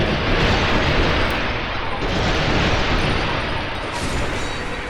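An enemy blowing up in the video game Dark Souls II: a loud, sustained rumbling boom with roaring, noisy texture filling the whole stretch.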